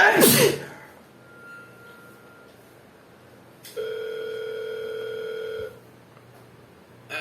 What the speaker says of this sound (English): His phone was ringing